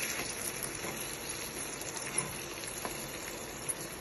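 Spinach and amaranth leaves fry in hot oil, giving a soft, steady sizzle with faint crackles and a few small pops, fairly quiet and continuous with no talking.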